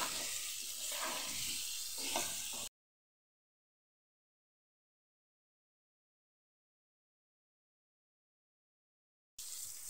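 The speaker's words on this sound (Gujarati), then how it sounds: "ફેરવતા ફેરવતા બધામાં સરસ મિક્સ થઈ જવું જોઈએ" Potatoes for Bhavnagar-style bhungra bateta sauté with black salt and are stirred in a pan, a steady close sizzle for a few seconds, then a long silent gap before the sizzle briefly returns.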